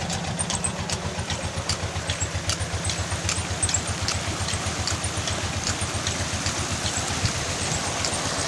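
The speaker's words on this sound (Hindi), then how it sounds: "असल में इंजन ना शोर बहुत है" Steady, loud engine drone of a tube well pump engine running, a rapid regular low thumping that carries on unbroken throughout, with no talk over it.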